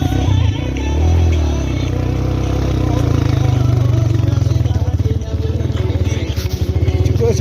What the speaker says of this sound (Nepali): मेरो बाइक चाहिँ यहाँ आउँदैछ